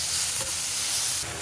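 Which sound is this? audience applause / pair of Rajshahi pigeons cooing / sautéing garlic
sautéing garlic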